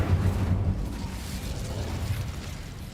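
Incendio fire spell cast in Hogwarts Legacy, a loud low whooshing burst of flame that swells at once and then rolls on as a steady rumbling roar, with no talk over it.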